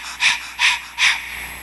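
A person demonstrates rapid, shallow nervous breathing, with three distinct breaths in quick, even succession, close and clear, and no talking.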